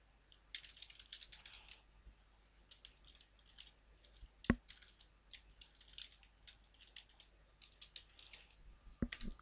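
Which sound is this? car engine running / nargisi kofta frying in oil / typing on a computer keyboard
typing on a computer keyboard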